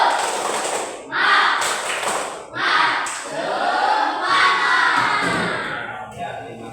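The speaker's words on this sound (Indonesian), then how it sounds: "Tepuk semangat satu kali lagi sebelum kita tutup." A classroom of students doing a rhythmic spirit clap, several loud bursts of group clapping and shouting in quick patterned sequence, close and energetic, ending abruptly.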